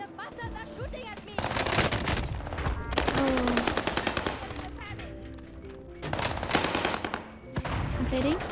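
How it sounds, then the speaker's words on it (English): Rapid bursts of automatic gunfire and single shots in the Call of Duty Warzone battle royale, close and loud, with players' voices talking over the shooting. "The bastards are shooting at me."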